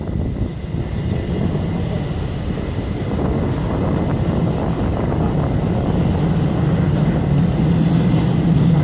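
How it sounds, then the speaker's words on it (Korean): Formation of air force KF-16 fighter jets passing over during a 2015 Korean navy fleet review at sea, a loud continuous engine roar and rumble that grows slightly stronger toward the end, with no talk over it. "가장 먼저 공군 KF-16 전술기 편대가 적해 안의 위협 표적 무력화를 위해 기동하고 있습니다."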